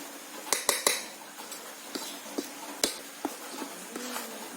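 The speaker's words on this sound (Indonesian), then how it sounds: "kemudian diaduk-aduk terus" Batter for banana nuggets being stirred in a bowl with a metal utensil, giving a series of sharp clinks and scrapes at an irregular rhythm, close and clear with no talking.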